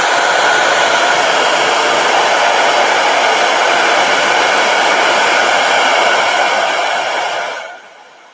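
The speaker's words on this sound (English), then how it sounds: "let me hit this with a blow dryer." A blow dryer runs loudly and steadily at close range for several seconds, then quickly winds down and cuts off at the end.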